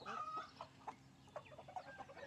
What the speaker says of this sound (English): Beautiful chicken. Beautiful, beautiful chicken.